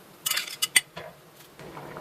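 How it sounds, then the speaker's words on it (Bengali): Fried prawns dropped into a pan of simmering gravy for a prawn posto dish, heard as a few quick metallic clinks and clatters of utensils against the pan, close and brief. "এবার এর মধ্যে ভেজে রাখা চিংড়িগুলো দিয়ে দেবো।"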